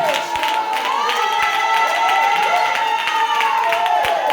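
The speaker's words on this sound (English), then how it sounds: "Come on, clap your hands for our praise." Congregation at an intense prayer meeting claps and cheers in praise, a loud, continuous crowd din with raised voices and shouting over the clapping.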